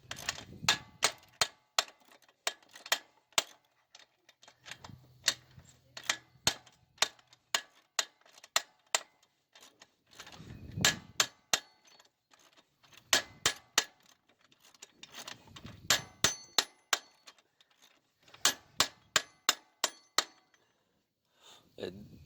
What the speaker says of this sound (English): Take a hammer and lightly peck on it while you're turning.